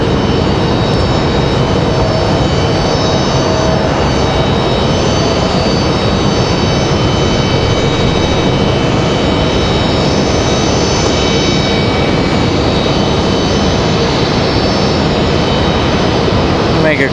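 Frontier Airlines airliner taxiing to the gate at Raleigh Durham airport, a continuous engine whine with steady tonal hum and broad rumble, a voice talking over it.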